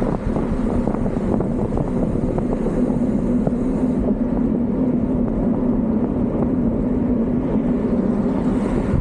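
Strong wind roars and buffets steadily across the microphone while cycling on a mountain bike, a loud continuous rushing with a low engine-like hum beneath it.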